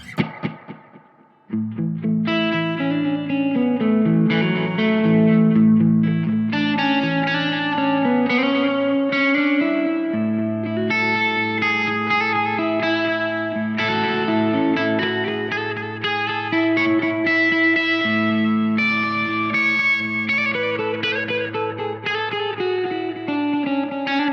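Electric guitar run through the IK Multimedia T-RackS Space Delay effect, sustained chords and melodic notes trailing into repeating echoes, loud and continuous after a brief quiet start.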